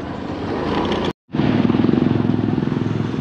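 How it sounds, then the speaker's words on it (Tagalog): Motorcycle engine running steadily and fairly loud, cutting out briefly then resuming with a rough, pulsing idle while the bike is parked near Mapanuepe Lake in San Marcelino, Zambales. "Parking muna tayo ng motor."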